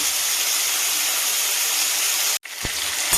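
Potatoes, onions and green chillies fry together in oil with a loud, steady sizzling hiss that breaks off for a moment near the end before resuming.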